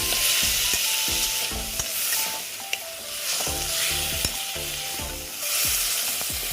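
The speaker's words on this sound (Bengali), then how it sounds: "এই আমি এটা আবার একটু কষিয়ে নেব" Bitter gourd and potato curry sizzles in a pan while a spatula stirs it, with frequent close scraping and clinking strokes over a constant frying hiss.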